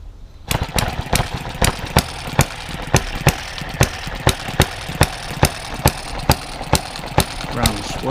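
A small modified hit-and-miss model engine, an Eachine conversion running on Shellite with a 50:1 mix, cranks up and fires in sharp, evenly spaced bangs about twice a second, loud and close, with a steady running hum between beats.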